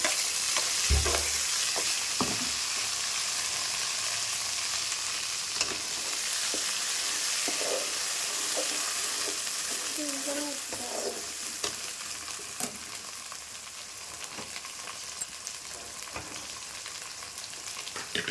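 Ground vallarai leaf chutney fries in a pan with popped mustard seeds and curry leaves, making a continuous close-up sizzle punctuated by occasional stirring knocks over about eighteen seconds.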